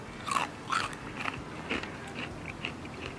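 Close crunchy bites and chewing of crispy homemade teriyaki bacon jerky, several sharp crackling crunches in quick succession, fairly quiet with no talking.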